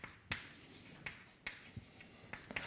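Chalk strokes on a board while an equation is written, a series of short sharp taps and scratches spaced irregularly over a quiet room, fairly faint and close, with no talking.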